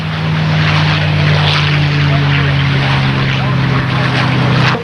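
A World War II era propeller fighter aircraft runs at a 1993 Clark County aviation heritage air show, its engine a loud, steady droning hum with a strong low tone that stays level throughout.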